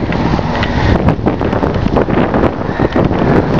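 Strong wind buffets the microphone outdoors on a chilly early-November afternoon along a road in Marshall, Michigan, a loud, continuous gusty roar with no talking.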